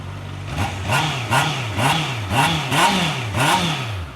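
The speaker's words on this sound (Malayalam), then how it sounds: "ഞാൻ നിങ്ങൾക്ക് ജസ്റ്റ് എക്സോസ്റ്റ് നോട്ടൊന്ന് കേൾപ്പിച്ചു തരാം" Honda CBR 650R inline-four motorcycle exhaust revved repeatedly, about seven rising-and-falling throttle blips in steady rhythm, loud and close with no talking.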